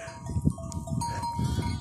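A sheep in labor bleats in strained, throaty calls, several short cries close by over a low background, with no speech over them.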